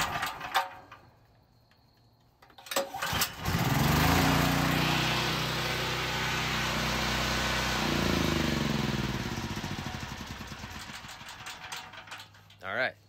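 A Generac GB6500 COSense generator engine cranks with a few clicks, then catches and runs loudly close by for several seconds before its drone sags and winds down.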